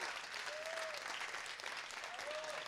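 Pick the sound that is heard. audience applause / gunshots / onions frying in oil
audience applause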